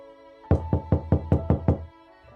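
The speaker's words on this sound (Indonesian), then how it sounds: "terdengar bunyi ketukan pintu" Seven sharp, evenly spaced knocks on a door, close and loud, in a quick steady rhythm.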